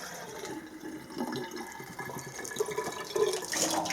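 Water poured into a homemade gas heater, a steady splashing, gurgling flow that grows slightly louder toward the end.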